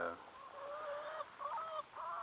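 Red Star laying hens in a garden coop give a few close, nasal honking calls in quick succession, loud against a quiet background with no talking.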